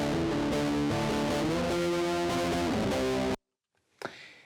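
An electric guitar track played through an effects pedal, distorted sustained chords ringing loud and dense for about three seconds, then cutting abruptly to silence before a brief noisy burst.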